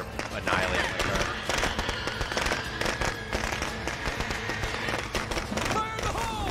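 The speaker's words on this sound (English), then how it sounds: "I'm gonna throw firecrackers." Thrown firecrackers go off in the zombie survival game State of Decay 2, a dense run of rapid crackling pops under continuous voice chatter and game noise.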